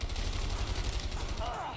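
Rapid gunshots in the video game A Way Out during a jungle shootout, a quick rattling volley of close, repeated cracks that fades near the end as a voice briefly cuts in.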